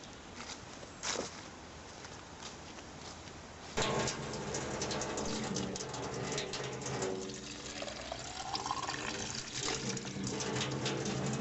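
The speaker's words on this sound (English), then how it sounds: "Just going to fill up my water bottle before I head off from Sallochy." A water bottle is filled from a tap on the West Highland Way near Loch Lomond: soft outdoor ambience and a brief knock, then a steady gush of running water that rises in pitch as the bottle fills, with no talk.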